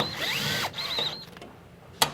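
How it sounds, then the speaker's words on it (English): A power drill whirs briefly as a screw is driven into a door without pre-drilling, its pitch wavering under load, then stops with a short sharp click. "Run the other screw in."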